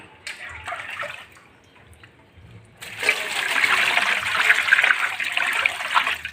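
Water pouring from a tap onto pork trotters being prepared for cooking, first a light trickle, then after a short pause a stronger, steady gushing splash that continues to the end.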